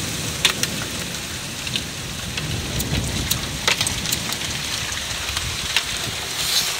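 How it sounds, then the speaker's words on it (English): Heavy rain pouring down steadily outside a window in Newcastle, a dense continuous hiss with scattered sharper drops and splashes, close and loud throughout with no talking. "Oh, here we go, another heavy downpour."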